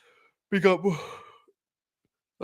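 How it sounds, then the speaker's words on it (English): A drawn-out, voiced yawn lasting about a second, close and fairly loud, followed by silence before a voice begins at the very end. "Sorry, yawn."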